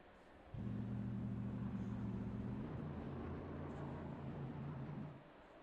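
Race cars roaring off together at the green light of a Monza Superpole session in Assetto Corsa Competizione, a steady loud droning engine rumble that starts abruptly and holds for several seconds before easing off.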